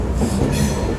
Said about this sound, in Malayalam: നേത്രാവതി പുഴേൻ്റെ അടുത്തേക്ക് എത്തിച്ച ട്രെയിൻ.